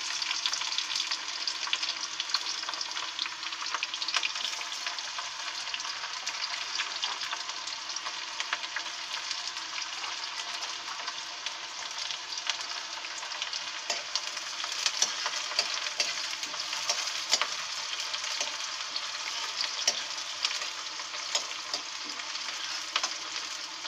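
Onion frying in a pan for a mixed vegetable dish gives a dense, even sizzle that holds steady throughout, with faint scraping of stirring mixed in, close and continuous with no voices.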